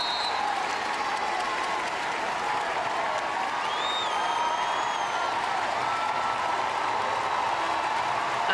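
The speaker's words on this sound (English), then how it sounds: "Lauren Hemp geeing the crowd up." Steady applause and crowd noise from the stands at a Manchester City v Liverpool women's league football match, loud and sustained throughout, with whistles and cheers rising above the clapping.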